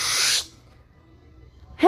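A single loud, breathy sneeze bursts out at the start, followed by near silence and then a brief rising vocal sound at the end.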